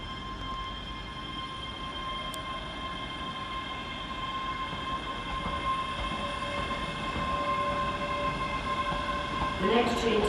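A Scotrail electric passenger train hums and rumbles steadily as it departs Glasgow Queen Street station, a constant electric whine over low rolling noise, with a brief squeal near the end.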